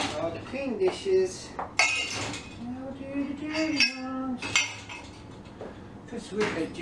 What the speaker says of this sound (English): We've got to do our dirty dishes.